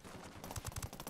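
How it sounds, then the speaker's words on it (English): Enemy gunfire in Ghost Recon Wildlands, a quick burst of four or five faint, sharp shots following a duller stretch. "There's still people shooting at us right now."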